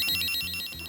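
A rapid warbling telephone ring trills steadily for under a second, bright and close, with nothing else heard.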